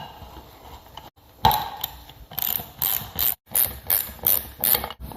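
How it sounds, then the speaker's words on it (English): A ratchet tightens the three bolts holding a stator on a Yamaha Rhino 700, producing close, crisp bursts of rapid pawl clicking separated by brief pauses. "So let's secure the stator in place with the 3 bolts."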